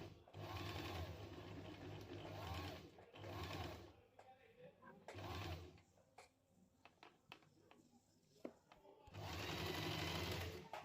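A sewing machine stitches a jewel neckline on a garment, its steady motor whir running in loud bursts broken by short pauses, with a few quieter clicks and handling sounds in between.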